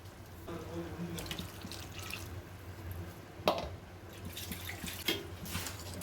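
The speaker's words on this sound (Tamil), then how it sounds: "இப்போ குழம்புக்கு எந்த அளவுக்கு தண்ணி தேவையோ அந்தளவுக்கு தண்ணி வந்து நம்ம சேர்த்துக்கலாங்க" Water added to a chicken curry, a running, trickling stream with a few drips and splashes, close and fairly faint, alone without talk.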